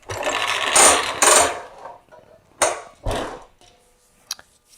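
Bursts of whirring, rattling mechanism as a hose reel winds back up, a few uneven spurts separated by pauses, ending with a short click.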